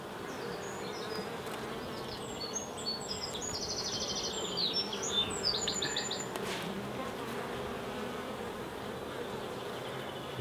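A dense, steady drone of many honey bees buzzing together close by, with no talking and a few faint high chirps above the hum.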